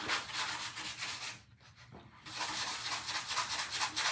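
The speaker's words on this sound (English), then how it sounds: "So let's try sanding it and see what happens." Rhythmic back-and-forth rasping of sanding on a surface, close up, with a brief pause in the middle before the strokes resume.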